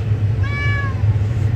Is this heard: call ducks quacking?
no